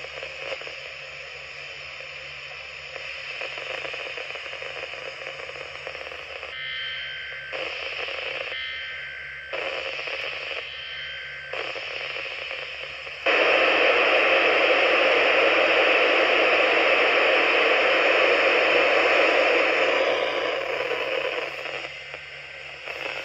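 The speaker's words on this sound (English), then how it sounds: "Let's try an earthquake warning." A Reecom R1650 weather radio sounds an earthquake warning: a loud steady hiss with bursts of alert tones, which gives way to louder, continuous static.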